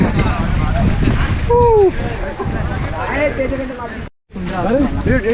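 Gusty wind roars into the microphone on the Harihar fort trek during the monsoon, heavy low buffeting throughout while people talk over it, cut off briefly near the end.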